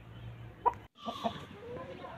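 A white Aseel rooster gives a few short, close clucks, with one sharp call standing out, then softer clucking continues briefly.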